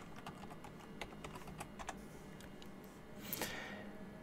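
Fingers tap out a password on a computer keyboard, a quick uneven run of light clicking keystrokes, close and quiet, ending in a brief louder burst.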